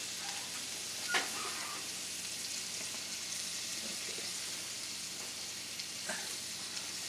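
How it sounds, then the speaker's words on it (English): Onion frying in bacon grease on a small camp stove: a constant hissing sizzle fills the background, broken by a couple of faint clicks and taps, and no voices are heard. "I'm going to fry up some onion right behind it in the bacon grease."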